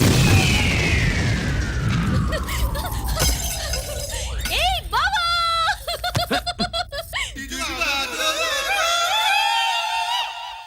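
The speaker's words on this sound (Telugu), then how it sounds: "పూర్ణాలు బాంబుల్లా ఫేలిపోయినాయి ఏంటి?" A long descending whistle leads into a sharp cinematic blast from a Telugu film, followed by excited voices and bursts of laughter.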